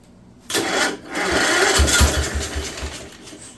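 A 1958 Wisconsin AENLD engine with heavy oil in the cylinder cranks and catches briefly, a loud sputtering roar after a quiet start that settles into a rough, uneven running rumble.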